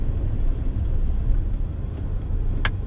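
A car travelling in third gear during a driving lesson, its low steady engine and road rumble filling the short stretch, fairly loud and even with no speech over it.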